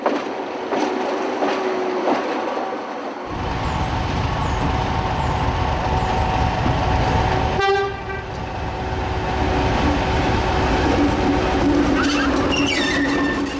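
A diesel locomotive on the Taieri Gorge Railway in New Zealand, a loud continuous engine rumble and rolling rail noise close by, with a horn-like toot around the middle and squealing tones near the end.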